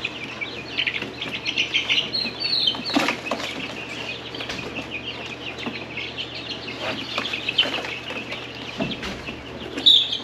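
Golden comet chicks cluck and peep in a brooder, with soft, irregular chirps scattered over a steady low hum and occasional rustling or flapping.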